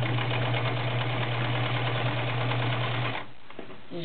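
Kenmore 1318 sewing machine stitching through denim, a fast steady mechanical whir with a humming motor for about three seconds, then it stops and a faint rustle follows.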